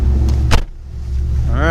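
A 1971 Jaguar XKE with a 383 stroker engine pulling away, a loud low engine rumble heard from inside the car with a brief thump partway and the pitch starting to climb near the end.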